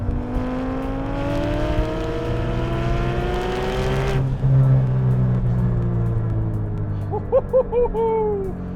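A Porsche GT3 with a race-bred 3.8-liter flat-six and an 8,400 rpm redline revs up loud and close, its engine note climbing steadily for about four seconds, then dropping back to a lower drone broken by short, sharp blips.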